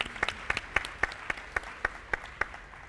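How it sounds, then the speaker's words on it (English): Brief round of applause at a youth business event, with sparse, distinct claps sounding in a loose, uneven rhythm over a faint room hum and no talking. "Give him a round of applause."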